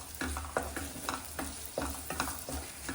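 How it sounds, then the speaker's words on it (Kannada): Chopped onions and curry leaves fry in hot oil, a close sizzle broken by repeated scraping strokes of a spoon stirring the pan, with no speech. "ಈರುಳ್ಳಿ, ಕರಿಬೇವಿನ ಸೊಪ್ಪು ಹಾಕ್ಕೊಂಡು ಸ್ವಲ್ಪ ಫ್ರೈ ಆಗಲಿ."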